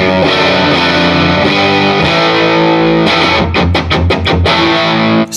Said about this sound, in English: You can still hear every note with the distortion